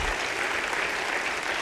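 A crowd applauding in a classroom or lecture setting, a brief, thick burst of many hands clapping at steady loudness throughout.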